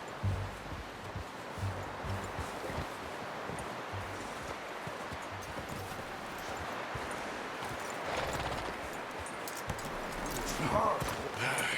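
Horse hooves clip-clop in Red Dead Redemption 2, a steady muffled patter over rustling outdoor ambience, with a voice talking faintly near the end.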